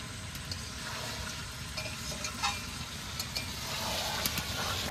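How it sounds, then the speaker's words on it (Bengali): Meat and fried potatoes sautéed together in a pan for a Bengali kasha mangsho, a steady soft sizzle with scattered light scrapes of stirring, a low background rumble beneath and no speech. "এরপরে মাংসের সাথে ভাজা আলুটাকে কষিয়ে নেব।"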